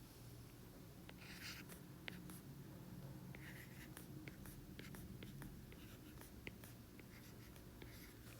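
Pen or pencil writing by hand while working out domain and range from a graph: continuous faint scratching with short strokes and ticks throughout, alone and very quiet.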